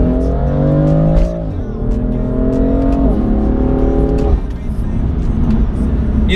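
BMW M3 F80 accelerating hard in second gear, its loud, close engine note climbing repeatedly in surging waves as revs build.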